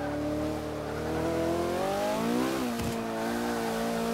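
A McLaren P1 on the Nordschleife in Forza Motorsport 5: a loud, close engine drone falls in pitch under hard braking, then a sharp rev blip marks a downshift into third before the engine settles again.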